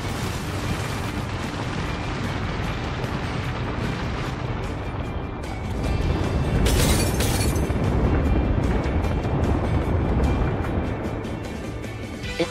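Gunfire in the Apex Legends shooting range, a dense, loud wash of continuous shots and booms that swells louder midway and stays busy throughout, with no talking.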